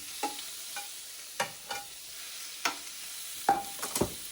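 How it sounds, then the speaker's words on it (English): Meat pieces searing at high heat on a Ninja grill, a quiet sizzle broken by several sharp clacks and scrapes as pieces are set down one after another. "I'm going to take these pieces over to the Ninja grill and put them in and just sear them on high heat"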